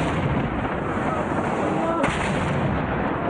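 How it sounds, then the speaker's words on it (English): Artillery shelling in the city of Homs produces a dense, loud, continuous rumble of blasts and gunfire, with a sharper report near the middle. "the city of Homs has been violently shelled"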